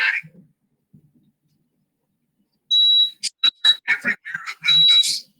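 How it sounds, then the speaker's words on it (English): An alarm clock rings in loud, piercing electronic bursts, first one long tone and then rapid shorter pulses, after a few seconds of near silence. "Everywhere around us, we wake up to an alarm."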